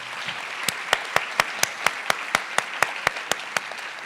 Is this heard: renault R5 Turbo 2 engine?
no